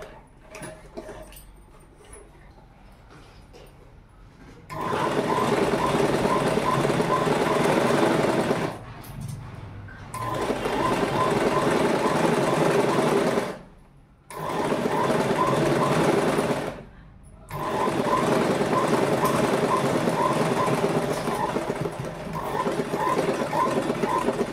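A sewing machine stitches the seam of uniform shorts in long steady whirring runs of several seconds each, broken by short pauses, with quiet room noise between bursts.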